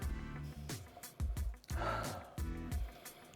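Several close, quick nasal sniffs of barrel proof rye whiskey from a glass, short breathy snorts repeating in uneven bursts with pauses between.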